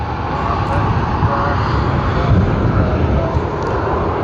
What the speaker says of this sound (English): LA810 Sydney to Santiago service of Latam Airlines has lined up on the runway.